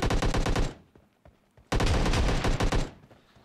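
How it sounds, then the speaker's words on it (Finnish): Shotgun fire in the mobile battle-royale game PUBG Mobile: two loud, dense bursts of rapid shots, close and dry, separated by a short quiet gap, with no talking. "Sitten ei muuta kuin haulikkoa käyttää."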